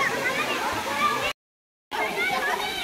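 A waterfall in the Kalvarayan Hills where children play in the water: steady, broadband rushing and splashing close by, with a brief dropout midway and voices talking over it.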